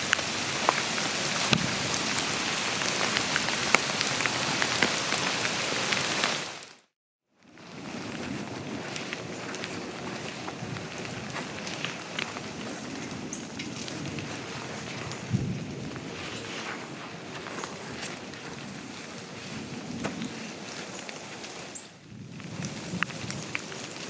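Steady rain falls through the woods during a hike toward an overgrown cemetery, a continuous close hiss of drops with a brief silent break near the start and no talking.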